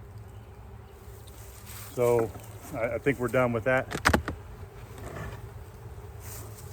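Honeybees buzz softly around an opened hive box with its quilt box stripped off, a low steady hum beneath someone talking close by.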